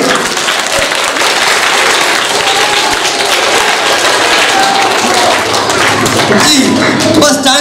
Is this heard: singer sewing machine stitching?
no